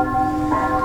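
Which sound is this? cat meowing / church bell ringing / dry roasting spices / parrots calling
church bell ringing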